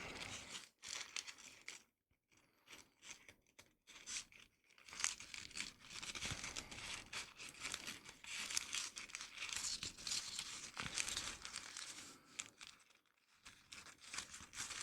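Paper crinkling continuously as folded origami layers are unwrapped during shaping, a long close run of soft rustles and crackles with a few brief quiet gaps, no talking.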